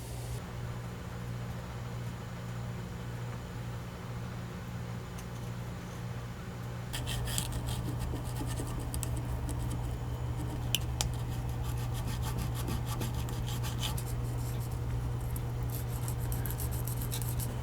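Trimming and fitting parts of a Traditions Crockett muzzleloading rifle kit, with faint steady rubbing and rasping strokes that grow more active partway through over a low background hum, close and quiet, no talk.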